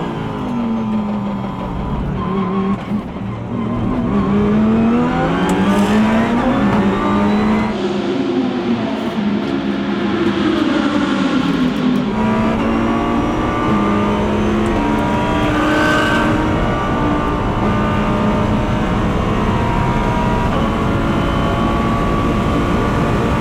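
Race cars racing at an afternoon circuit race, engines roaring and rising and falling in pitch as they accelerate and shift, loud and continuous with several cars overlapping.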